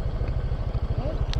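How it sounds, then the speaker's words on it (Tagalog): A Honda Click scooter engine labours on an uphill road, a close, pulsing low drone that sounds strained and weak, with a brief higher whine near the end. "Humina yung hatak ng motor, Gios."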